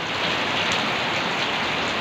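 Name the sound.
rain falling in Norzagaray, Bulacan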